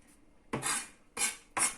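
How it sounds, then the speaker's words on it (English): A knife chops fresh coriander on a chopping board in three distinct, close strikes at an easy, uneven pace, with no talking. "So just chop it nice and easy."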